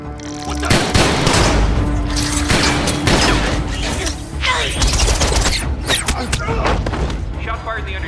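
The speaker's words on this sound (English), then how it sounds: "Shots fired in the underdeck. Repeat, shots fired." Gunfire breaks out aboard Air Force One in a scene from the 2007 Transformers film, loud bursts and thuds mixed with mechanical clatter and dense action-score sound under shouted radio talk.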